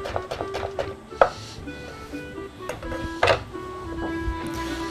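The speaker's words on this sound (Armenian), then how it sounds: "Կտրտում ենք համքեղ" A knife chopping fresh dill on a board, a series of sharp close taps in quick bursts with brief pauses between strokes.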